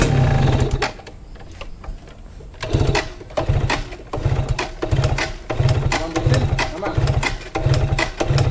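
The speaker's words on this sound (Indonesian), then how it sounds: "jadi kita mau geber dulu motornya" A motorcycle engine is being revved in a workshop with all of its air intake holes and filter openings covered, giving repeated throttle bursts in a steady pulsing rhythm, loud and close, with people talking around it.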